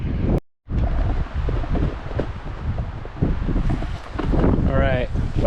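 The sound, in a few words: cold wind on a ski slope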